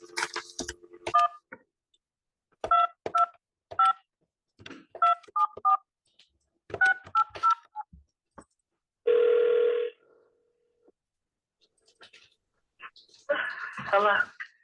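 Touch-tone telephone keys being pressed to dial a number, a quick series of short beeps in irregular clusters, followed by a longer tone and then a brief burst of talk near the end.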